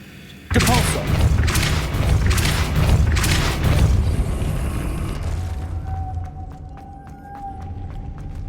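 The Depulso spell goes off in a Harry Potter video game with a sudden loud burst and a rumbling, pulsing blast that carries for several seconds, then fades into soft ticking and a thin tonal hum.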